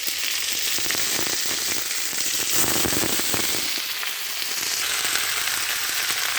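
Red amaranth greens dropped into a hot pan with chopped tengra fish, producing a loud, continuous crackling sizzle that stays up close and steady with no talking.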